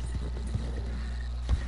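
Horse hooves clip-clopping in Red Dead Redemption 2, a steady moderate trot heard fairly close with a thump near the end and no clear whinny.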